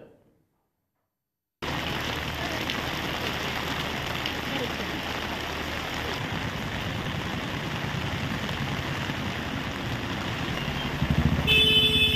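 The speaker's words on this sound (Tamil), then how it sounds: "ஒரு மணி நேர கனமழை காரணமாக தெருக்களில் மழைநீர் பெருக்கெடுத்து ஓடியது" Heavy rain pours down in a dense, steady hiss that begins abruptly after a short silence and continues loud and unbroken throughout, with no voices.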